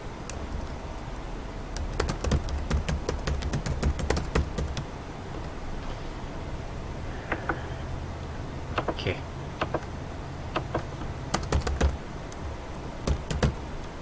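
Typing on a computer keyboard: irregular bursts of crisp, close key clicks spread across the stretch, over a steady background hum.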